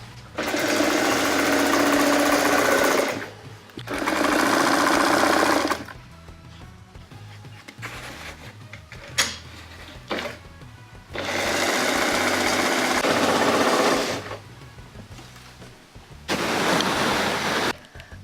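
A sewing machine stitching curtain fabric runs in loud, steady whirring bursts of a few seconds each, stopping and restarting several times with quieter handling gaps between; no talk.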